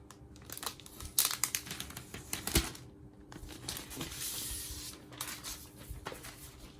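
Protective plastic film is peeled and crinkled off a new 2020 MacBook Air, giving crackling, rustling bursts with a few sharper tearing peaks, close and moderately loud, with no talking.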